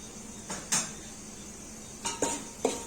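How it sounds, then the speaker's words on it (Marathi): Metal spoon scraping and knocking against a cooking pot while homemade red chili masala is stirred and roasted in oil for dry chicken and mutton rassa; a few sharp clinks at scattered moments over a faint steady sizzle. "सगळीकडं असं मिक्स करत राहायचं सारखं त्यामुळं इकडून तिकडून पातेल्याला लागत नाही"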